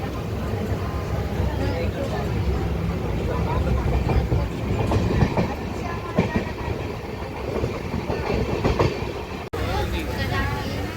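Jan Shatabdi train from Amritsar pulling into Haridwar station, with rolling wagons, rhythmic clickety-clack and steady rail rumble heard from close by throughout, and people talking over it.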